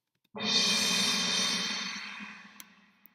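Orchestral percussion sounds in a single struck chord that rings out loudly and then slowly fades over a few seconds.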